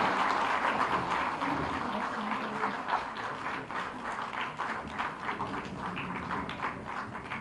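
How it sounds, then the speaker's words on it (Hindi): Audience applause at a public welcome ceremony for a chief minister in Chhattisgarh, a dense, steady patter of many hands clapping that stays loud throughout with no voices over it. "तालियां बजाते रहिए।"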